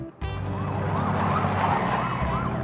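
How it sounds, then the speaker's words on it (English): Wailing ambulance siren from a monster truck ambulance in the hospital management video game Two Point Hospital, sweeping up and down steadily and loud over a low engine rumble. "Monster truck ambulance."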